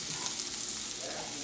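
Garlic and onion fry in a hot pan, giving a steady, close, bright sizzle that runs unbroken with no talk.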